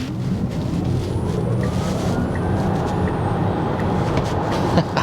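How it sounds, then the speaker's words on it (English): A Tesla Model Y Performance launching hard in sport mode, a loud steady rush of tyre and road roar with wind noise building inside the cabin, no engine note, sustained throughout. "I'm just going to go in sport mode and I'm going to launch it."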